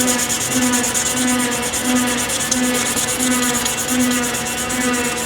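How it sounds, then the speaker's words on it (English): Hand sanding a slipjoint folder knife, a steady rough scratching with a regular back-and-forth rhythm of strokes, close and alone. "finished trimming and shaping, so now it's up to hand sanding"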